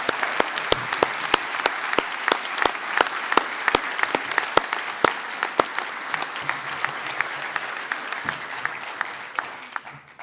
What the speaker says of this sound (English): Let's give a round of applause to the leadership of Salt Lake County.